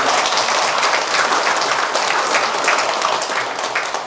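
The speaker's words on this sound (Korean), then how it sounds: "우리 내년도 농촌 예산을 많이 해주신 우리 시장님한테 박수 한번 보내주시기 바랍니다." Sustained applause from an audience at a Korean town-hall style citizens' dialogue in Yeongi-myeon, honoring the mayor; dense, steady clapping fills the whole stretch with no break.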